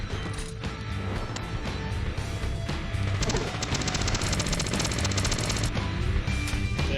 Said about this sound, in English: I'm gonna switch up weapons here, guys. Get the SMG out.